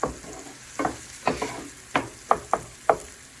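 Onions and carrot frying in oil for carrot and paneer rice, stirred with a series of sharp, evenly spaced scraping strokes over a low, continuous sizzle, close and fairly loud.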